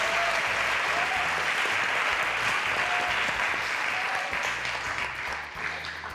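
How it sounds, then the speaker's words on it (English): A studio audience at a live cooking show applauds loudly and continuously for about six seconds, a thick even wash of clapping with a faint tone and low hum underneath. "Another round of applause for our ladies."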